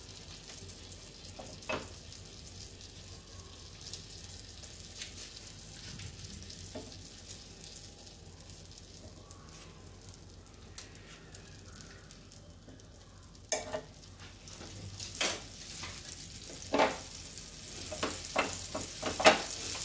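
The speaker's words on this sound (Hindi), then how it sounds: "मीडियम फ्लेम पे आप इसको सेक लीजिए।" A red velvet sandwich toasts in butter in a pan over medium flame, giving a quiet, steady low sizzle, then louder crackles and pops building toward the end.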